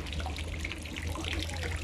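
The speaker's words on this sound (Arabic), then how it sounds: "عملية الصرف تبقى ضعيفة زي ما انت شايفها كده" Water trickles and drains slowly from a sand-filled sandponics grow bed with weakened drainage after two years of use, a steady, soft, close trickle over a low background hum, with no voices.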